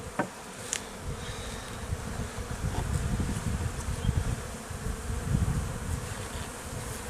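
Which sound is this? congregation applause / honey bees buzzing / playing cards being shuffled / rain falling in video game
honey bees buzzing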